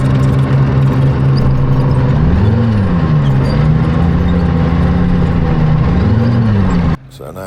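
A tank engine runs at the Armageddon Tank Museum, a loud, heavy mechanical drone that rises and falls twice in pitch as it revs, ending abruptly.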